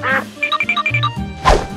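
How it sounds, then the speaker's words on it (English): A cartoonish duck gives a quick run of about six short, bright quacks in close succession, loud and alone, with no talk over them. "Duck."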